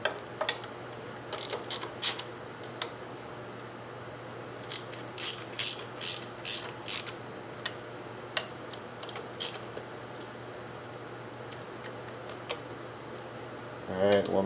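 A ratchet wrench tightens valve cover bolts on a 3800 Series II engine, with bursts of quick metallic clicks, some in rapid runs and others as single ticks, close and crisp against a low steady hum.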